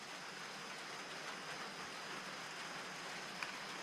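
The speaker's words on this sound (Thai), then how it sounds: "ตอนนี้ฝนกำลังตกฟังเสียงเดี๋ยวจะได้ยินเสียง" Rain falls steadily at night outside a hut in southern Laos, a soft, even hiss that holds constant and fairly faint with no other clear sounds.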